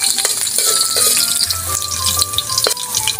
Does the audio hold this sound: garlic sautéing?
yes